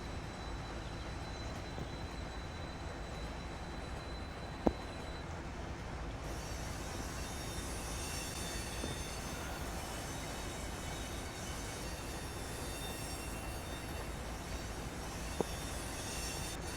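GP7 diesel locomotives in the Train Sim Pro USA game give a steady, fairly quiet rumble of engine and rolling rail noise, continuous and even throughout, with a couple of faint clanks and no voices.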